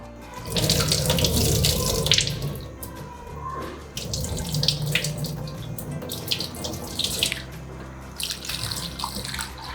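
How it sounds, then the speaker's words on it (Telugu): Soaked mung beans are rinsed under a running kitchen tap, a steady, close gush of water splashing into a sink that continues with brief shifts in flow. "వీటిని మళ్ళీ ఒకసారి నీట్గా కడుక్కోవాలి, కానీ అలానే పిసుకొద్దు."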